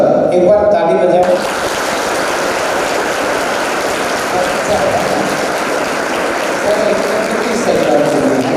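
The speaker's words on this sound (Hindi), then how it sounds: "एक बार ताली बजाओ" Applause from a seated audience at a college session, a brief burst of clapping that quickly becomes a dense, even patter of hands lasting several seconds, with voices faintly mixed in.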